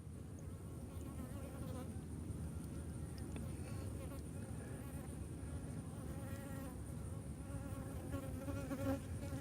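Honeybees buzz steadily and close around a beekeeper on a cool day, a continuous droning hum with individual bees passing near, while someone talks over it.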